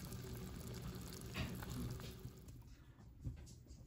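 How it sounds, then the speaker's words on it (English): Mushrooms and onions sautéing in butter give off a steady, close sizzle that thins out toward the end, broken by a few soft stirring scrapes. "Over here we have mushrooms and onions sauteing in butter."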